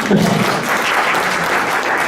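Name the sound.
audience applause welcoming a speaker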